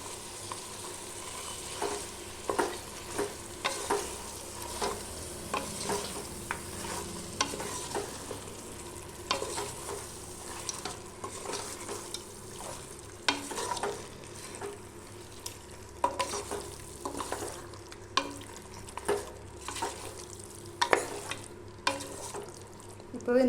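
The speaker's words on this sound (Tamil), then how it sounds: "சேர்த்து நல்லா இந்த மசாலாலாம் இந்த மட்டனில் படுற அளவுக்கு கலந்து விட்டுக்கலாம்." A frying pan of mutton tossed with masala is stirred steadily, the spoon scraping and knocking against the pan in irregular strokes over a low, continuous sizzle, close by and moderately loud, with no talking.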